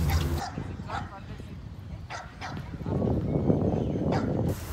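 Dogs bark and yip at an outdoor dog park at a sports complex in El Salvador, with sharp barks scattered over a steady background and people talking throughout.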